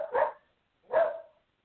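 Dog barks twice, about a second apart, each bark short and fairly close with a rough, broadband burst, and silence in between.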